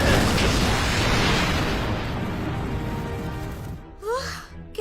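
Explosion effect from the Power Rangers movie: a big blast whose loud, broad roar fades slowly over several seconds, then a brief whooshing swish near the end.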